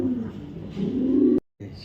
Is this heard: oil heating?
no